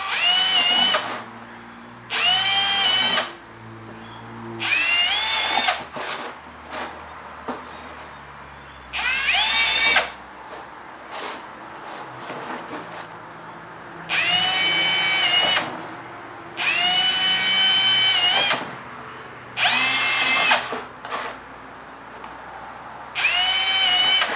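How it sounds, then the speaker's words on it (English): An electric drill with a sharpened bit drills soft plastic, whining in about eight bursts of a second or two each, separated by short pauses, loud and close. "stick to a nicely sharpened drill bit"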